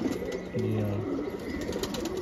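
A pigeon coos inside a loft, one low rolling call over steady ambient hum and faint background sounds, close by.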